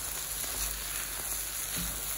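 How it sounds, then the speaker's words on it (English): Smoked fish frying in a pan and being stirred, giving a steady close sizzle with faint scraping, and no voices. "Still stirring my smoked fish."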